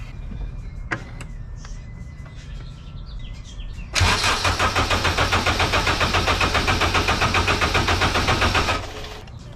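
A junkyard K24 engine cranks over without firing during a compression test: a loud, fast, even chugging of starter and compression pulses runs for about five seconds, following a quiet stretch with faint tones.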